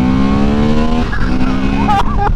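A 2023 Honda CB750 Hornet motorcycle revs hard through third gear, a loud, close engine note climbing steadily before a gear change and brief whining revs.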